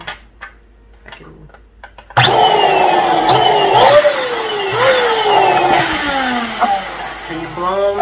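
After a short quiet spell with faint voices, an electric inflator whirs loudly as balloons fill, its pitch sliding and squealing repeatedly as the rubber stretches.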